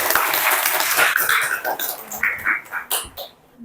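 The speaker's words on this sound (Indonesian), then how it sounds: "tepuk tangan dulu untuk dia" Indonesian classroom career-guidance session where students clap for a classmate who answered correctly: a short burst of dense, close applause that thins out and trails off into scattered claps.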